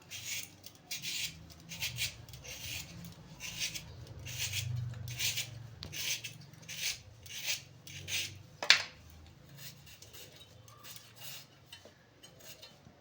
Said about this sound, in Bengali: এবার মাছের ঝোলের জন্য আলুটা আমি কেটে নেব